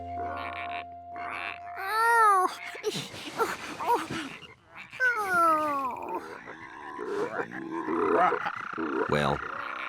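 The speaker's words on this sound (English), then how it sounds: "Before long, George thought the frogs were even more fun than the tadpoles" Cartoon frogs in a children's animated show make a run of warbling, groaning croaks and squeaky calls that rise and fall, sounding close and fairly loud with brief gaps between bursts.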